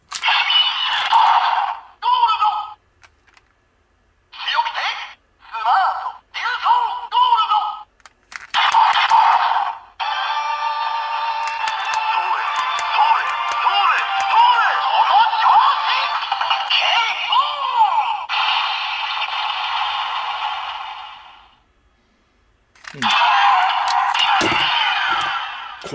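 DX Mosa Changer, a Kishiryu Sentai Ryusoulger transformation toy, gives off bright electronic voice lines and jingly sound effects in repeated bursts, then one long sustained stretch, loud and close, with short gaps of silence between them.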